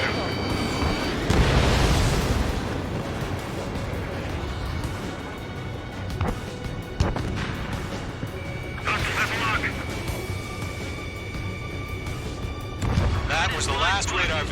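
Missile explosions destroying a radar vehicle in the jet combat game Ace Combat 7, heavy booming blasts with rumbling debris, several bursts spread across the stretch, loud and close, with radio chatter voices and beeping tones mixed in.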